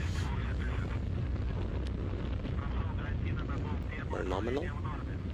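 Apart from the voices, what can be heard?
rocket engine during ascent of a satellite launch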